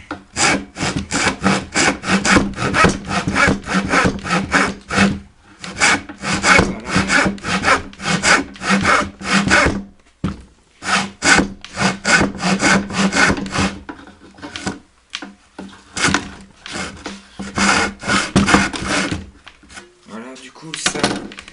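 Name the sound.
hand saw cutting wood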